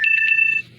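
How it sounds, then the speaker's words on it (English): A phone's low-battery alert chimes nearby: a short series of quick, bright electronic beeps in a steady pulsing rhythm, loud and clear with no talk over it, ending in a fainter final blip. "That is my phone letting me know I have a low battery"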